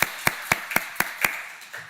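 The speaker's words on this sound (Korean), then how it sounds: "한번 일어서시면 박수로 환영해 주시면 고맙겠습니다" Church congregation at an Easter Sunday service clapping in welcome, heard as six sharp, evenly spaced claps about a quarter-second apart, fairly close and clear, then fading out.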